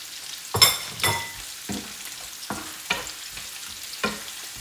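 Green chilies and curry leaves sizzle in hot oil for mango pickle, a close crackling fry that flares in a series of sharp bursts, each hissing loudly and then fading.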